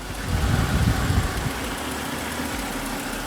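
A Volkswagen Passat B5 engine idles with a steady low rumble and faint mechanical ticking, briefly swelling at the start before settling into an even drone.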